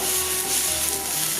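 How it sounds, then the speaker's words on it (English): Colorful bell peppers sauté in a hot pan with a steady, close sizzle and faint hiss. A low hum sits underneath, and nobody speaks during the brief stretch. "we're just gonna saute this and let the flavors come out"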